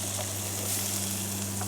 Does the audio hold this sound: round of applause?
no